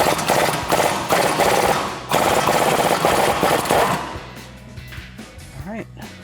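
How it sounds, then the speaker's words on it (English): An impact gun hammers off an 18 mm suspension nut on a Dodge Challenger: loud, close, rapid rattling bursts for several seconds, then quieter workshop noise with a few short squeaks. "use a swivel socket on my impact gun, or you can use a ratcheting wrench"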